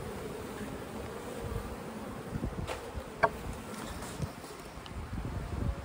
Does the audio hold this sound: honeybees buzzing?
yes